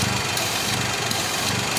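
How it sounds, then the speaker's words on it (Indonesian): A car engine idles rough and uneven with its intake manifold removed, a loud, close, continuous rumble with slight rhythmic pulsing and no talking. "Coba kalau intake manifold ini saya lepas, apa yang terjadi? Loh, mesin akan ngobos nih."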